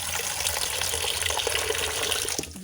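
Water pours into a pot of simmering soup in a steady, close gush that keeps going for a couple of seconds and then stops abruptly.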